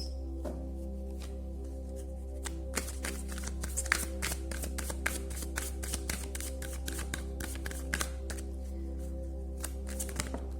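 Tarot cards shuffled by hand in a continuous run of quick riffles and taps, close and moderately loud over a steady low hum, with no talking.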